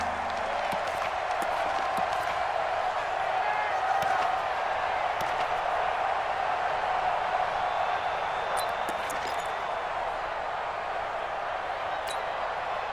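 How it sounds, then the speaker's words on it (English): A stadium crowd roars steadily in the video game Madden NFL 20, a broad continuous swell of cheering from a large distant audience, with a few claps and whoops on top. "the crowd getting into it as we come up on a big 3rd down"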